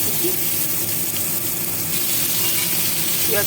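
Onion and bay leaf sizzle steadily in oil in a pan, a continuous frying hiss with faint clinks and rattles close by.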